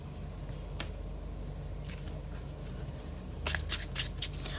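Tarot cards being shuffled and drawn in a quiet room, with soft papery rustles and then a quick run of crisp riffling flicks near the end, fairly faint and close.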